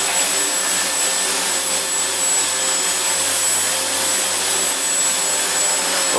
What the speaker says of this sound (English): Look at the servo working to keep the tricopter